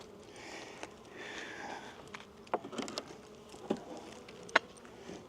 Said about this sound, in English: Are these my bees or is this somebody robbing out?